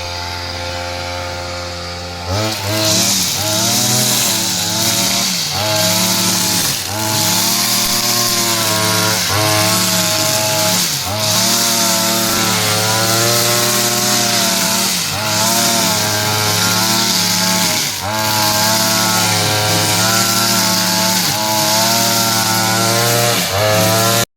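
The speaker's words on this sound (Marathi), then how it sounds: "सगळं गवत तो या मशीनने कापेल" Loud, continuous engine drone of a motorized grass cutting machine, revving in repeated surges over a steady roar.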